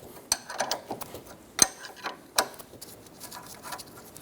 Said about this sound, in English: going to use a pair of locking pliers on the back of the sway bar link stud to hold the stud while we remove the nut